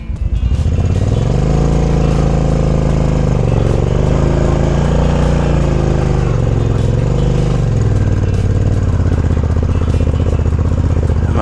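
A cruiser motorcycle ploughs through soft sand, its engine droning loud and close with a throaty, rising and falling rumble as the throttle works against the drag.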